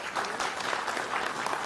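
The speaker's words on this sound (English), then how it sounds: "Let's give them a round of applause for TRIO Upper Bound." An audience at a Metropolitan Council meeting applauds TRIO Upward Bound staff with a brief burst of steady, fairly loud clapping from a crowd in the room.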